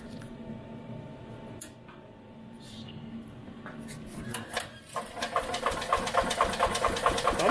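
An EZGo golf cart engine cranking over on fresh mixed fuel after a fuel pump swap and carb cleaning, a steady mechanical churn that grows louder and busier toward the end, close by.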